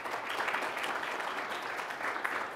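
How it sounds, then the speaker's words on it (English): A conference audience at a PostgreSQL talk breaks into steady, dense applause, many hands blending into an even roar that stays level for a few seconds. "I want a round of applause for them"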